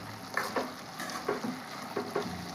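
Ginger paste and coriander powder sizzle in a pan for a prawn and egg curry, a steady frying hiss broken by a few soft stirring scrapes, close and without speech.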